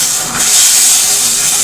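Semolina (rava) tipped into a pot of boiling water for rava kesari, giving a steady, fairly loud broadband hiss of steam that holds for the whole moment with no talking.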